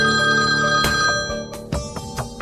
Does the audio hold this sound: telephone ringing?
yes